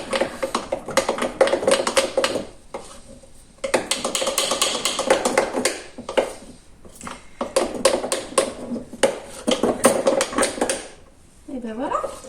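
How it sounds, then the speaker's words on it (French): Sourdough starter being mixed in a bowl, giving repeated bursts of scraping and clinking from the utensil against the bowl. Short pauses separate the bursts, and a voice speaks briefly near the end. "maintenant on va mélanger avec le levain pour le rafraîchir"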